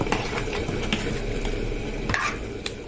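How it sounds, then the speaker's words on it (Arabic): A utensil scrapes and stirs zucchini and meat in a pot, soft clinks and scraping over a steady low sizzle, with occasional sharper metallic taps and no talking. "هديها تقليبه بقى واغطيها واسيبها عشان الكوسه تستوي."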